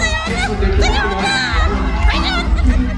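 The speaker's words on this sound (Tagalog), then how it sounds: "Ang pinakamalakas na sigaw." Crowd at an outdoor Christmas party concert shouts and cheers loudly and continuously, with high whoops and excited yelling from many voices close by.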